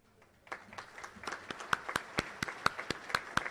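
Audience in a convention hall clapping for the mentors, scattered claps at first quickly building into steady, sharp applause from a modest crowd nearby.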